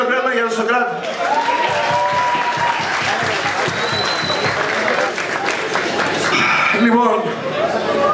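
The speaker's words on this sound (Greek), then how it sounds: "Ένα χειροκρότημα για τον Σοκράτη." A comedy club audience at a live stand-up show applauds a man named Socrates, with sustained clapping and scattered chuckles while someone talks over it at the start and end.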